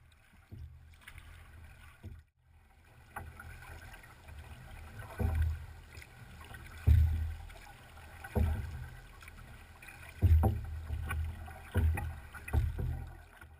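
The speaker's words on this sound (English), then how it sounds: "The basic paddle strokes we use to steer are the stationary pry and the stationary draw." Canoe paddle strokes pulling through water outdoors, a series of soft low swishes and gurgles roughly every one to two seconds over faint wind.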